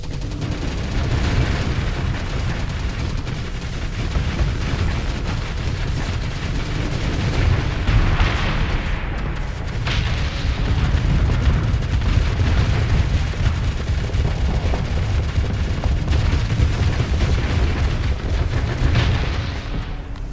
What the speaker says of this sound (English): The Pegasus was just, like, shooting the corpse of a Rampart.